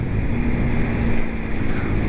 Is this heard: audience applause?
no